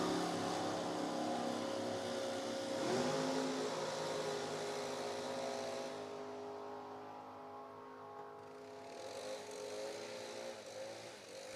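A 1963 Corvette race car runs at an NHRA drag strip with a sustained engine drone that swells and then eases off, heard from a distance with no voices.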